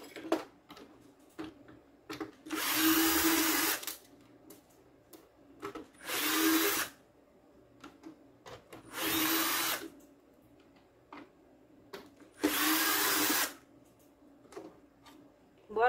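A power screwdriver backs the screws out of a broken TV antenna plug, four separate whirring bursts of about a second each, close and distinct, with quiet handling noises between them.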